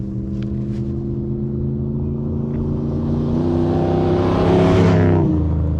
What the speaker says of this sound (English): We're driving over to Black Point.